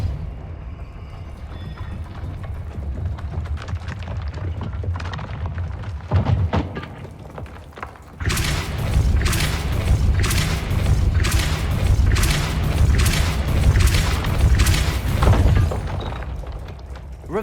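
A Depulso spell in Hogwarts Legacy bursts out with a sudden heavy boom and shattering crashes, followed by a rapid series of loud, repeated impacts and breaking sounds against a rumbling game background.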